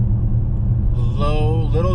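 Another car passes at night on the highway up the Cajon Pass, heard from inside an RT Scat Pack Widebody as a rising engine note over the low cabin rumble in the second half.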